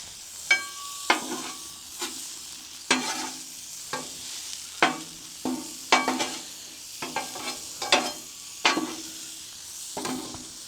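Potatoes and onions fry on a Blackstone griddle at an outdoor camp by the Mississippi River. A spatula scrapes and stirs in repeated sharp strokes over a soft, continuous sizzle, up close, with no one talking.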